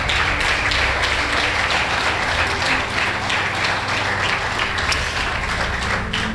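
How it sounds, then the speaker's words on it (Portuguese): A church congregation applauds during a worship service, with loud, continuous, full-room clapping and a low hum of voices underneath. "Você pode liberar as tuas mãos e aplaudir ao Senhor."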